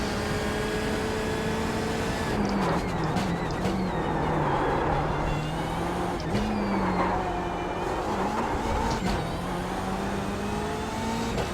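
A BMW M8 GTE race car engine drones continuously in iRacing, holding a loud steady tone with several rising and falling shifts as the car works through a lap.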